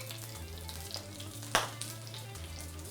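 A sea bream fillet cooks skin-side down in hot oil, held flat under a spatula, with a close, steady sizzle over a low hum and one sharp crackling pop midway. No voices are heard.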